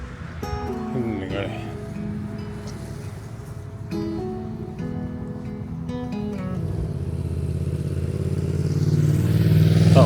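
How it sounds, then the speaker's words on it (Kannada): A motorcycle passes along a city street in Vilnius, its engine growing steadily louder toward the end over a busy background with voices. "ಬೈಕ್ ನೋಡ್ರಿ"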